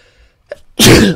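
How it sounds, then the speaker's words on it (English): One loud, close sneeze erupts after a short quiet inhale, bursting suddenly and filling the end of the moment alone. "I've got another one coming."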